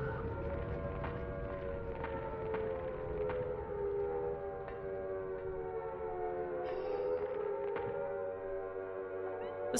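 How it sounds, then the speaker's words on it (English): Sirens wail steadily and loudly in the Silent Hill video game, a sustained droning tone with shifting pitch layers, heard alone without talk. "Sirens are going off."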